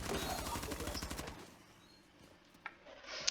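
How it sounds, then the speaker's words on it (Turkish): Rainbow Six Siege gunfire, a fast automatic burst of close shots that stops after about a second and a half, followed by quiet with a couple of faint later clicks and brief speech. "Onlar birbirlerini mi vurdu az önce?"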